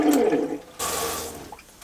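Water from a shower head gushes into a small van sink, a steady splashing rush that cuts off, then starts again.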